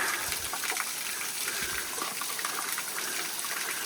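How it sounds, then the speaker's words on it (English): A small waterfall, the Waterfall Bower in Mt Worth State Park, rushes steadily nearby, a loud continuous white-noise roar of flowing water with no talking. "So this is the Waterfall Bower."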